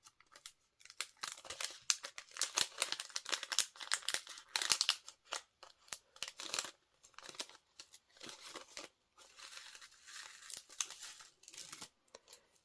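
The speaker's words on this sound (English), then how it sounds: "And then I can remove the backing on the tear and tape." Tear and tape adhesive has its backing peeled off during shaker card crafting, making close, crackly ripping and crinkling bursts that come in uneven spurts with short pauses, with no talking.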